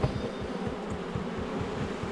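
Honeybees hum and buzz around an opened hive during an inspection, a faint, steady drone with no talking.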